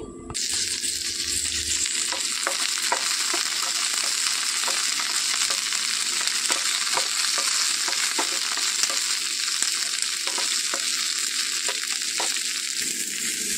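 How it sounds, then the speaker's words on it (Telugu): Green chillies fry in about a tablespoon of hot oil in a pan, a loud, steady crackling sizzle throughout with faint, regular taps of a stirring spoon against the pan. "ఇందులోనికి 1 టేబుల్ స్పూన్ ఆయిల్ వేసుకొని పచ్చిమిర్చి వేసి వేయించుకోవాలి"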